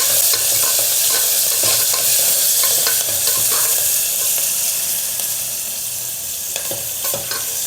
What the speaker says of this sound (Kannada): ಈರುಳ್ಳಿ ಚೆನ್ನಾಗಿ ಬೇಯಬೇಕು ಎಣ್ಣೆಯಲ್ಲಿ.